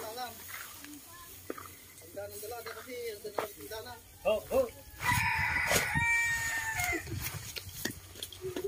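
A rooster crows loudly nearby, a long strained call cutting over people talking and laughing in the background.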